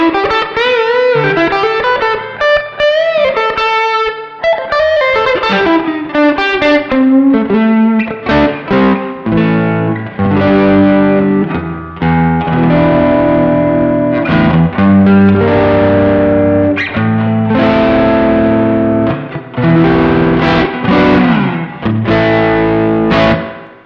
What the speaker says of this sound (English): You can get some insane levels of drive on this pedal.